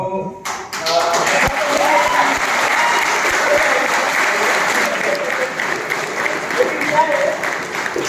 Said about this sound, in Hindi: कृपया करके तालियों में कंजूसी मत कीजिएगा